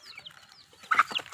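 Farm chickens being fed chopped onion give a short burst of close clucks, a few quick calls after a quieter start.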